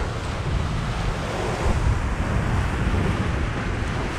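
A Hallberg Rassy 54 sailboat surfs down ocean waves on a Bahamas-to-Jamaica passage, rushing water and heavy wind buffeting the microphone in a constant loud roar that swells briefly midway, with no voices.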